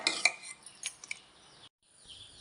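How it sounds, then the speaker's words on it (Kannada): A utensil scraping and clinking against a pot while rice flour is mixed with browned fried onions, a few sharp metallic taps then softer stirring, close and quiet. "ಚೆನ್ನಾಗಿ ಮಿಕ್ಸ್ ಮಾಡುವ."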